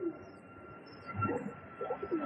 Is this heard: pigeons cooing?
yes